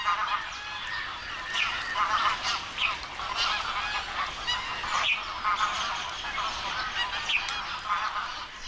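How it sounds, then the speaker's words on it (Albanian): Huge flocks of migrating water birds, arrived from Siberia, Mongolia and China, crowd an Indian wetland, their honking calls overlapping into a dense, steady chorus at moderate distance with no talking. "Në të gjithë rajonin moçalet gjallojnë nga mbërritja e 10 mijëra zoqve të ujit"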